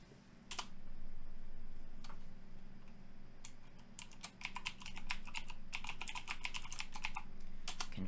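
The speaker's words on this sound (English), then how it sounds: "I feel like we're typing this so much." Computer keyboard typing in bursts of quick, close clicks, sparse at first and then a dense run of keystrokes, with no talking over it.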